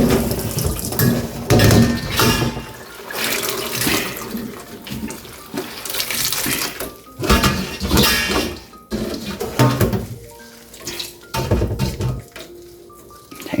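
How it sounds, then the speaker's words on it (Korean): Onion skins being washed by hand in water in a basin for natural hanji dyeing: continuous splashing, sloshing and swishing with occasional clinks of a container, close and busy, with no talk. "깨끗이 한 4-5번 이렇게 씻어줘야 돼요."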